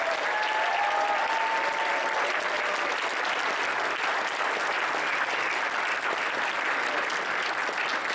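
Audience clapping fills a hackathon opening ceremony hall, a dense steady applause sustained at even loudness throughout, with a faint voice or two lost underneath.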